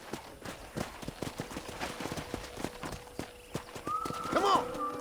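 Horse hooves clip-clop steadily at a walk in the Western video game Red Dead Redemption, close and moderately loud, and the horse briefly whinnies near the end. Faint voices are heard in the background.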